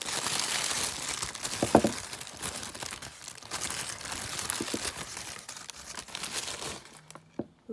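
Black plastic parcel wrapping crinkling and tearing as it is pulled open, a steady close rustle with a few sharper rips and crunches, no voices.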